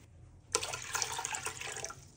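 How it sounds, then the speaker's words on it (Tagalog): Water splashes and fills into a pot for steaming tilapia, starting abruptly after a quiet moment and running as a steady close gush. "So maglagay lang tayong tubig."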